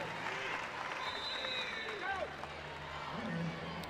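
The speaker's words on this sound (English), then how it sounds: "See a lot of the Oklahoma State fans obviously clapping for Travis" Oklahoma State fans clap for wrestler Teague Travis at the Big 12 Wrestling Championship, a dense, steady wash of crowd applause mixed with arena noise, a whistle and faint voices.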